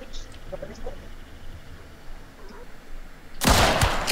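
Gunfire in an online multiplayer shooter game, a sudden loud burst of shots near the end after a quieter stretch of ambient game noise and faint background sounds.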